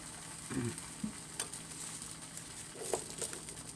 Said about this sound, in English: I'm just going to add my 2 eggs, and we're just going to have a nice little low-carb, healthy scramble here for breakfast